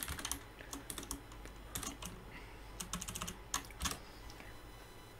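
Rapid, uneven typing of Python code on a computer keyboard, with quick clusters of close, crisp key clicks and brief pauses between bursts, and no talk.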